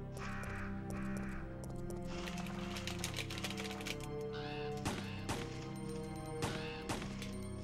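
Crows cawing repeatedly in Resident Evil 3, several harsh calls spread over a steady, dense game soundscape with occasional thuds and sharp bursts.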